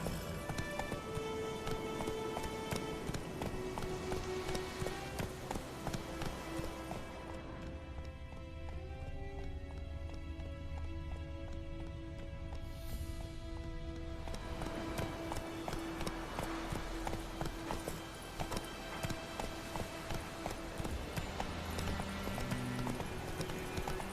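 Roach, the horse in The Witcher 3, gallops in a steady, driving rhythm of hoofbeats that runs for the whole stretch, up close, with sustained tonal sounds in the background.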